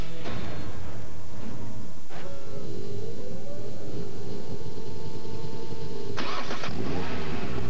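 A Ford F-150 pickup engine cranks over and catches, then settles into a steady running idle with a brief louder surge near the end, clear and close with no talking.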